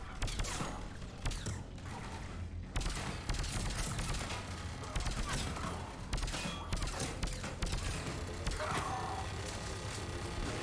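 Mass Effect combat with dense bursts of gunfire against a Guardian, rapid cracks and mechanical clatter layered over a noisy battle backdrop, sustained and busy across the whole stretch.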